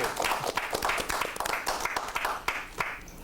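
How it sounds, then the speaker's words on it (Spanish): Audience applause and clapping for the first woman agronomist, honored during an interview with pioneering women engineers; dense, steady clapping fills the whole stretch with a few sharper claps standing out. "un aplauso a esa mujer, señor, se encuentra en Santiago"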